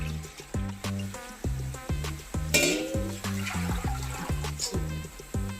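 Water is poured from a vessel into a cooking pot for biryani rice, making rhythmic, repeated glugging pulses close by, with a brief splashing clatter partway through.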